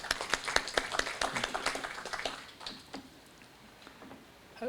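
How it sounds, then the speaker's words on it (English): An audience at a state function for the launch of a report applauds Ernst & Young, scattered, fairly distant clapping that starts brisk, thins out after a couple of seconds and fades to room quiet. "can we just give Ernst & Young a round of applause at this point?"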